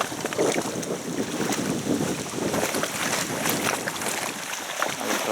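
Strong gusts of wind at the Burshtyn reservoir buffet the microphone in a constant, roaring rush, with rising and falling bursts and no voices.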